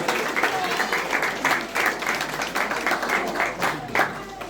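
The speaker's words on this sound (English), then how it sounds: "Can everyone give a big round of applause to Leo?" An audience applauds for Leo at a wedding celebration, a steady wash of clapping holding for several seconds with voices mixed into the crowd noise.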